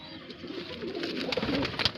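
Pigeons of a Moradabad-cross breed kept in a loft in Bareilly coo softly and continuously, with a low rolling murmur from several birds close by and no voices.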